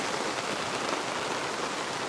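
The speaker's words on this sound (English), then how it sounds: "listening to the rain" Rain falling steadily at a campsite in a state park, an even, hissing patter on surfaces with no other sounds and no talking.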